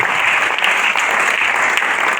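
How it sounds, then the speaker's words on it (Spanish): Church congregation claps together in a brief, loud, steady round of applause, dense hand clapping filling the whole moment without speech. "¿Cuánto le dan ese aplauso al Señor?"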